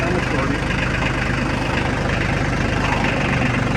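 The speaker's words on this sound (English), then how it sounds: "Gonna climb on the tractor here." A tractor engine idles steadily nearby, a low rumbling chug that holds an even rhythm throughout.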